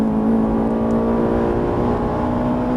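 A Ferrari 458 Italia at full throttle on a track makes a loud, sustained engine roar with a steady high-pitched tone, heard close from inside or near the car, with no speech.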